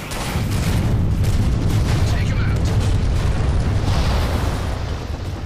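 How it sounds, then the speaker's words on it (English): Airstrike explosions rumble continuously in a Halo 4 Spartan Ops battle, a loud, dense, sustained roar of blasts and booms lasting several seconds before easing slightly at the end. "So the airstrike just kind of fell on"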